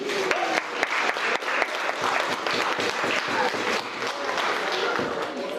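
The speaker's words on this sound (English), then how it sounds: "Just give yourselves a round of applause" Wedding guests clap in a lively, continuous burst of applause, with voices and cheers mixed in, fairly loud and sustained throughout.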